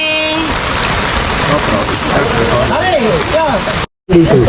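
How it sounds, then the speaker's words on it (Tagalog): Heavy rain falls steadily on a boat, a constant hiss under a voice speaking over it, with a brief cut to silence near the end. "Talagang maulan pa rin. Dire-diretso pa rin ang ulan."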